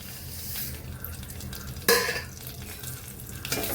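Vermicelli toasting in a little ghee in a pan, giving a quiet, steady low sizzle with soft stirring scrapes and one brief louder clink near the middle.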